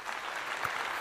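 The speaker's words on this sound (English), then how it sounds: "A round of applause to ChatGPT for saying hello to you, everybody here." A brief burst of even, rushing applause from many hands, fairly soft and continuous with no voices standing out.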